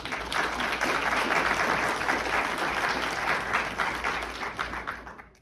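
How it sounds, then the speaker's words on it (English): An audience claps steadily at a welcome address during a Honolulu conference, dense even applause that stays strong for several seconds and then begins to fade near the end, with no voices over it. "So, a round of applause, please."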